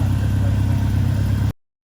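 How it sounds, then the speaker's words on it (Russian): A police motorcycle's engine idles steadily nearby on a shopping street in Hiroshima, a low, even mid-pitched rumble that runs for about a second and a half and then cuts off abruptly into silence. "Вот полицейский мотоцикл"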